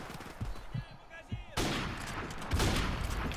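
Gunfire in Call of Duty Modern Warfare Remastered, bursts of shots and blasts with a sudden loud barrage midway, under a speaking voice.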